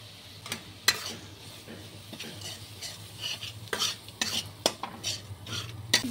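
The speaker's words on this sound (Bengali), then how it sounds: "এগুলো একটু কষিয়ে নেবো মশলাগুলো।" Spices sauté in oil in a pan for a Bombay duck dish. A soft continuous sizzle sits under irregular metal spoon scrapes and clinks against the pan, which grow busier toward the end. The sound is close and there is no talk.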